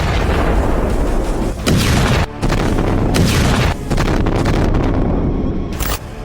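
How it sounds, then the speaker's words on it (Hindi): Explosions from the bombing of Kharg Island, Iran, come as heavy, distorted booms and blasts that fill the whole stretch, with a few abrupt breaks between loud bursts. "अमेरिका ने वीडियो जारी करके दिखाया है कि कैसे खर्ग द्वीप पर बमबारी हो गई।"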